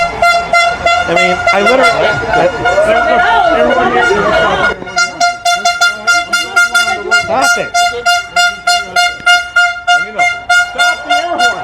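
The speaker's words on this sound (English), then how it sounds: "Stop the air horn." Air horn blasting repeatedly at a tense political event, loud sustained tones followed by rapid rhythmic honks, with people shouting and talking over it.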